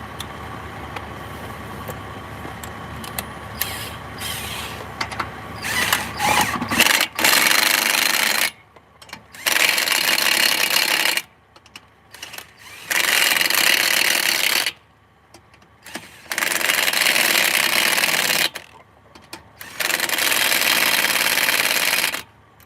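An impact wrench fires in repeated sustained bursts tightening lug nuts on a speedway race tire in an Indianapolis pit, loud and close, each roughly two-second rattling run separated by brief pauses.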